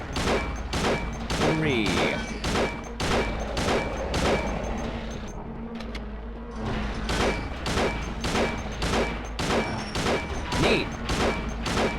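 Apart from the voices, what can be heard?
gunfire in a Silent Hill video game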